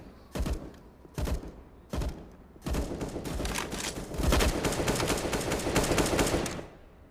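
Bursts of automatic gunfire from a Counter-Strike match on the Nuke map: three short separate volleys, then sustained rapid fire that continues for several seconds, loud and close.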